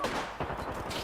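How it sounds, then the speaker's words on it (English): Apex Legends gunfire, a quick run of sharp shots in close succession over about a second, at moderate loudness. "I'm under fire."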